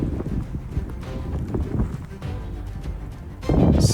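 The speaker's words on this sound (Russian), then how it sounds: "Снег летит почти горизонтально, подгоняемый ураганным ветром." Hurricane-force wind drives a mountain blizzard in the Altai, roaring and buffeting hard against the microphone, a dense low rumble that surges louder near the end, with no voices.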